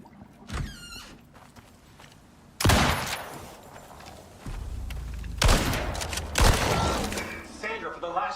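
In the survival game Icarus, gunfire rings out at a Drac: a few sharp shots and loud booms amid footsteps and thuds, with a game voice speaking in the background.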